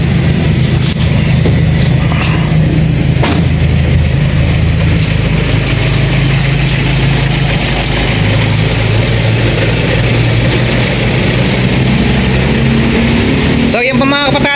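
A Toyota 2E engine idles steadily at about 800 RPM, a continuous low rumble with faint mechanical ticking running the whole time, a brief louder burst near the end.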